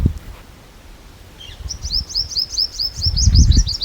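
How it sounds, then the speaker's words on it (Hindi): Small birds chirp and tweet in a rural Haryana village, a rapid run of high, bright repeated notes over quiet ambient rustle, fairly close and steady for several seconds. "पक्षी वगैरह बोल रहे हैं ची ची ची ची ची।"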